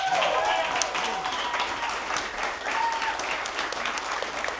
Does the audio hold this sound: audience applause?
yes